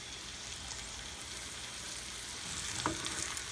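Sausages sizzle and fry in a pan greased only with rendered bacon fat, a steady soft crackle with a slight rise toward the end.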